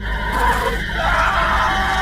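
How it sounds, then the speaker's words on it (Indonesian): A man screams in a scene from a revenge film, a loud, sustained, strained cry holding steady for about two seconds over a dense, noisy backdrop. "Dan tak lama kemudian di posisi Jin mendengar teriakannya Ben."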